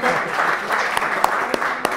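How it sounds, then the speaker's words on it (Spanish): A crowd at a live event in a brewpub claps steadily throughout, a dense patter of many hands with a few sharper claps standing out. No one speaks. "Entonces, un aplauso para Pancho Birra, que estuvo acá con nosotros"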